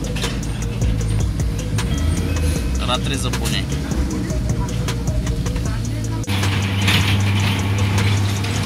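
Interior rumble of a PMT city bus in Pune riding before dawn toward Sinhagad, with a droning engine, rattling and ticking fittings, and a voice talking close by over the steady noise.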